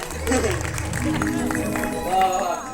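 An audience at a Konkan Naman stage show in Mumbai claps in a dense, lively burst of applause over crowd murmur, while a voice speaks over it.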